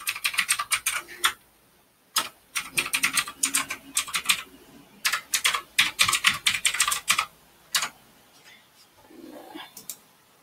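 Rapid bursts of clicking keystrokes on a computer keyboard as an email address is typed into a login page, close and crisp, broken by short pauses.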